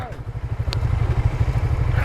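A motorcycle on a group ride runs close with a rapid, pulsing engine throb at steady speed, loud and continuous.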